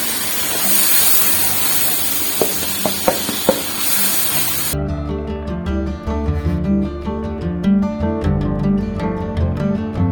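Ground red chili and masala fry in a pan for dhaba-style matar keema, giving a steady, close hiss for about five seconds before music abruptly takes over.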